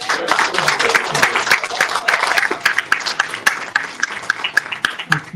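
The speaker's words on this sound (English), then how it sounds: "let's just give one more strong hand of applause to our absolutely panel" Sustained audience applause for a panel at a talk on Kamitic meditation and astrological cycles, dense steady clapping from a crowd that carries evenly through, with a few sharper individual claps standing out.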